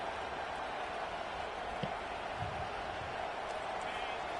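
Steady, dense roar of a stadium crowd at a college football game, a constant wash of cheering and noise running unbroken throughout, with a commentator's voice over it.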